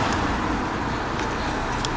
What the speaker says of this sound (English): Let's see if there's some cars.